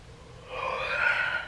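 A single person's yawn: one drawn-out breathy exhale that swells in the middle and fades over about a second, close to the microphone with no talk.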